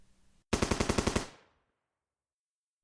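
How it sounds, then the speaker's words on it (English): A gunshot sound effect fired as a warning shot, heard as a rapid burst of about nine sharp cracks in quick succession that ends abruptly and fades into silence. "That was just a warning shot."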